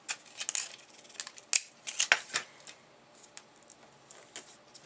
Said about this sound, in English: I'm going to take my tape now and get some tape on all 4 pieces of ribbon.